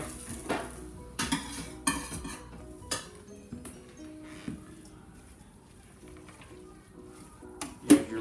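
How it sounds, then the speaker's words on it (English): A ladle stirs Coke-grilled onions in a metal stock pot, making sparse, fairly quiet clanks and scrapes at irregular moments, with one louder knock near the end. "Kind of stir the onions up to speed up the process of draining all that juice."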